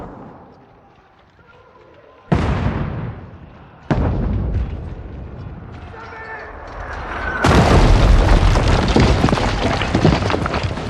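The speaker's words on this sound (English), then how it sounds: "कानों में आवाज आ रही है, गोली चल रही है।" Gunfire and explosions on a 15th-century battlefield in the video game Kingdom Come Deliverance 2, with sudden loud booms followed by a dense, continuous roar of battle noise building toward the end.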